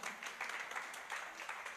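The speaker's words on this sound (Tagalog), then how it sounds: "Palakpak para kay Lord." A church congregation claps steadily, applauding in praise of the Lord during a Sunday sermon; continuous dense clapping of moderate loudness across the whole moment, without talk.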